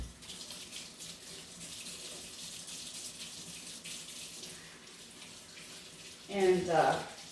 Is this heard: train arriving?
no